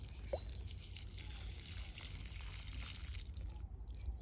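Water poured from a small hose onto garden plants: a steady, soft trickle and splash runs throughout at close range, fairly faint, with no talk over it.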